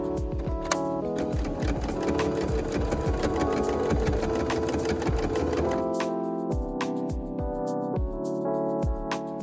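A sewing machine sews the liner bodices of a cosplay dress together with a fast, rapid mechanical clatter of the needle, close and loud, then it slows into a few separate stitches before stopping.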